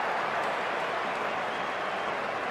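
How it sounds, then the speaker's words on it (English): A packed stadium crowd at an India versus Australia one-day international cricket match roars and applauds, a continuous broad wash of distant cheering noise that holds steady and fairly loud. "Have to listen to the noise of that crowd. It's just sensational."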